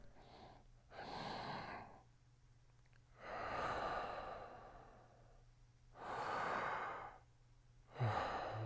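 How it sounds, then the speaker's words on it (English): Slow, deep breathing exercise before playing saxophone: four long, audible breaths with pauses between, close and soft, ending in a sharper exhale. "just do a little breathing before you play"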